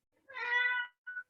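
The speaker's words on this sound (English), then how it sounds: "that's my cat" Domestic cat meowing nearby: one drawn-out meow followed by a brief, shorter chirp, clear against silence.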